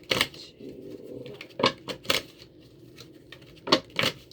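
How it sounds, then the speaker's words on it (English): Tarot cards being shuffled during a Gemini reading: several short, crisp riffling bursts close to the mic, separated by quiet gaps. "Oh yeah, good shuffling."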